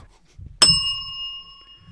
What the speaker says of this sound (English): I don't think I could hit that bell any harder.